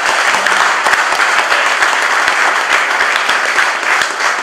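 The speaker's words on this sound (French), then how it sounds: "applaudissez vos hommes comme ça" A crowd at a political rally in Martinique claps steadily and loudly, dense continuous applause filling the space with no pauses.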